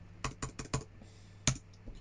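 Several sharp computer keyboard key presses, four in quick succession and then one louder single strike a moment later, close and clear with no talking, during 3ds Max modelling work.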